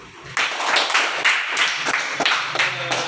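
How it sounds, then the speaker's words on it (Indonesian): A primary school class claps hands together in a classroom, a loud close burst of quick uneven claps lasting a few seconds. "Tepuk tangan dulu."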